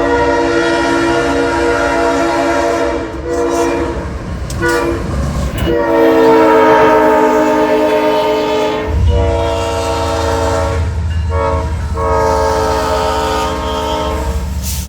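CSX ES44 locomotive 1776 sounds its horn in several long, loud chords with short breaks between them, while a deep rumble of the passing train grows beneath the later blasts.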